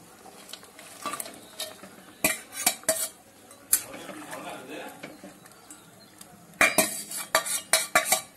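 Prawns for a Bengali chingri malaikari tumble into a hot pan and get stirred, bringing a soft sizzle and repeated clinks of a utensil against metal in uneven bursts, busiest near the end.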